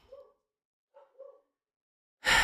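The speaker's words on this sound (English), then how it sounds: "Our dogs are barking." Dogs bark faintly in the distance, three short muffled barks in a quiet room, ending in a sudden burst of loud noise.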